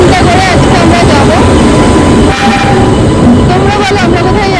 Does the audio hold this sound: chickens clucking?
no